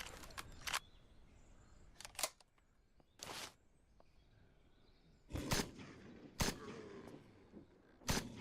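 An AK rifle reloaded in the game SurrounDead: a series of separate sharp mechanical clicks and clacks, several close together, spaced over quiet background, with no talking.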